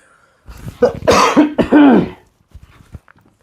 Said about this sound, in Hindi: खांसी थोड़ी सी आ रही है